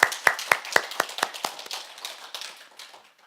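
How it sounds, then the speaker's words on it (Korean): Applause from a church congregation during a Sunday service: a run of sharp, separate claps that thins out and fades over a few seconds, heard alone with no talk. "이 두 분을 위해서 큰 박수로 우리의 감사의 마음을 전하도록 하겠습니다."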